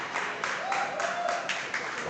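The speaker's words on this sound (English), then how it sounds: "Getting the approval of the crowd" Crowd applauding at an independent wrestling match after a side slam, a steady wash of clapping with regular surges, moderately loud and filling the whole moment.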